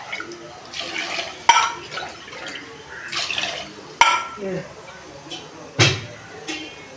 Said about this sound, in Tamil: நாலு டம்ளர் தண்ணி ஊற்றிக்கிறேன்